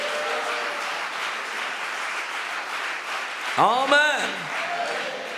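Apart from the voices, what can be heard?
church congregation clapping loudly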